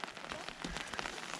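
Steady rain patters and hisses across a surface at a lake on a cruise and island tour, a dense continuous wash with scattered louder drops and no voices.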